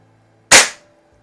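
A single sharp crack from a Sheridan Blue Streak .20 caliber pump air rifle fired after eight pumps, loud and close, with a quick decay into silence.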